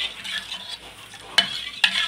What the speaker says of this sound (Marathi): आणि ह्याला छानपैकी मिक्स करायचं।